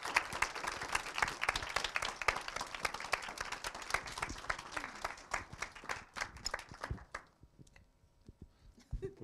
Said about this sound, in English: I would like to ask for your big applause.